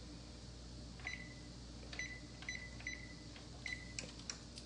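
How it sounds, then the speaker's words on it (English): An oven's control panel gives a series of short electronic beeps, about six or seven in an irregular rhythm, faint over a quiet room hum. "Let me preheat the oven. I'm gonna set it to 350."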